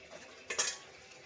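A lid set onto a pot of sinigang makes one brief, close metallic clink and rattle against a quiet background.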